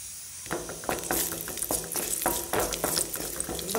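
Cashews roast in hot ghee on a stove, giving a steady crackling sizzle with scattered sharper pops and stirring clicks, close and fairly loud with no talk.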